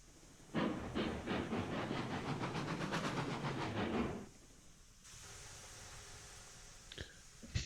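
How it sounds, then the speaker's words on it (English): A train runs in the railway simulation game Railroads Online, giving a steady rumbling, clattering roll with some hiss for about four seconds, then cutting to quieter background noise with a few brief knocks. "There's a good test train."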